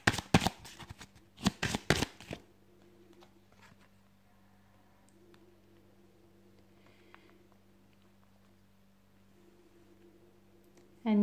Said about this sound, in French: Moi, je tire encore une fois beaucoup de cartes là même.